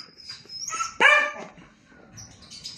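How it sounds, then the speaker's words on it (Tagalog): A single sharp dog bark rings out close by, followed by a brief yelp, with quieter high-pitched background sounds before and after. "Abang ingay ni Shua, oh"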